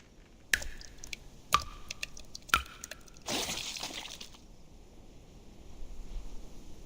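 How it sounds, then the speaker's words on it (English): Dripping water in the mobile game Reverse: 1999, set in a motel, falls as three sharp, evenly spaced drips about a second apart, followed by a brief wet splash and then a quiet, hollow ambience. "Sounds like dripping water."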